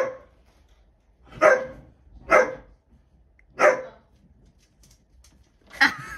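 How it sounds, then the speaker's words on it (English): A dog gives four sharp single barks, spaced about a second apart, close and loud against a quiet background. "Look at him. He's barking at me."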